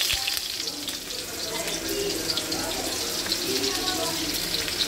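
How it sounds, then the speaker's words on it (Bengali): Chopped onion dropped into hot oil with dried red chillies for a fried ridge gourd dish, a steady hissing sizzle running throughout, moderately loud. "এবার দিয়ে দেবো পেঁয়াজ কুচি"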